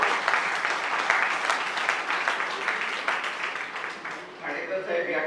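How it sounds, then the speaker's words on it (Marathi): An audience at a book launch claps loudly and continuously, a dense rattle of many hands that eases slightly near the end before picking up again. "असेल तर जोरदार टाळ्या वाजवा"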